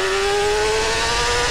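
Motorcycle engine in GTA San Andreas revving with a steady, slowly rising whine, a short continuous burst close and loud, with no voices.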